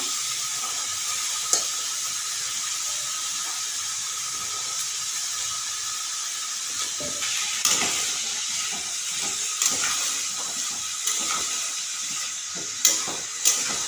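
Masala frying in a pan for a beet and carrot curry, giving a steady bright sizzle and hiss with occasional soft pops and clinks of stirring, close and constant.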